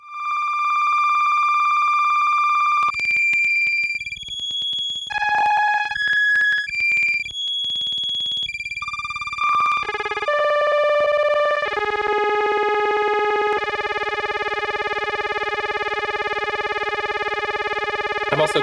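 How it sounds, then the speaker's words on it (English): A synthesizer patch plays granular looping of a tape loop, stepping through repeated segments as clean sustained electronic tones that jump between pitches, stutter in short bursts, then settle into a buzzy, harmonically rich drone. "as I adjust the playhead, we're going to move through the tape loop and hear a different segment of it that we're repeating."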